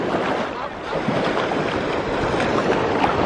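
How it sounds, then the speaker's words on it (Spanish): Sea waves washing onto Playa d'en Bossa beach in Ibiza, a steady broadband roar of surf with some wind buffeting the microphone, continuous and fairly close. "Este sonido de las olas es que me da la vida."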